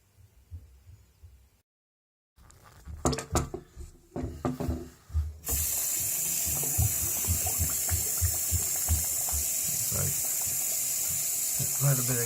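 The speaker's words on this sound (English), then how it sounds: "We're going to go ahead and rinse this out." Water rushes steadily through a propane furnace's clogged condensate line as it is rinsed out, a loud continuous hiss and splash that starts abruptly and holds for several seconds after some clunks and handling noises.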